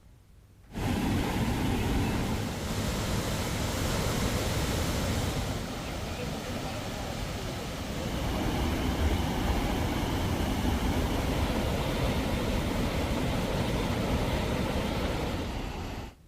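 Paladhu waterfall on the Bhuj–Nakhatrana highway in Kutch, swollen after heavy rain, gives a continuous loud roar of rushing water that holds steady throughout, with a voice talking over it.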